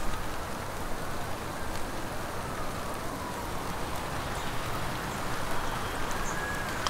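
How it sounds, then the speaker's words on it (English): Steady rain falls without letup, a dense even hiss of drops on surfaces lasting several seconds, with no voices and no change in intensity. "Constant rain."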